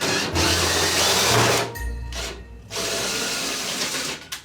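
A power drill whirs loudly up close, cutting out briefly twice before spinning up again.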